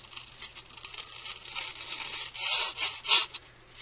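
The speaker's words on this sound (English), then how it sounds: "This stuff cuts through foam like butter." A blade saws through foam for a lemon centerpiece, giving close rasping, tearing strokes that swell louder toward the end, with no voices.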